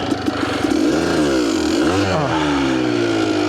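A 1992 Kawasaki KDX200 two-stroke dirt bike engine revs hard and close while braking, rising and falling in pitch twice before settling into a steady, loud buzzing drone.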